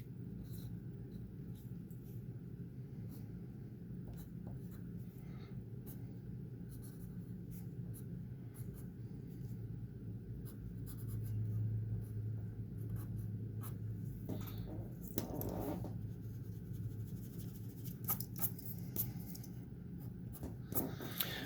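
A pen scratches continuously on paper as a tree diagram is drawn by hand, with soft, close, steady strokes throughout over a low background hum.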